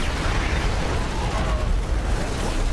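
Explosion as a shard is destroyed in StarCraft 2, a sustained loud rumbling blast with dense low boom and crackling debris filling the whole moment, no pause.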